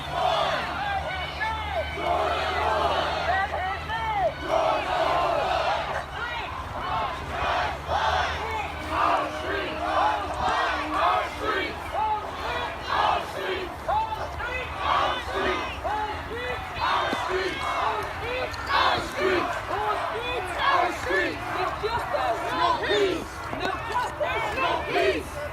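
A protest crowd chants slogans at a Black Lives Matter march in Parsippany, New Jersey, a dense mass of shouting voices that rises and falls in a steady rhythm, loud and continuous throughout.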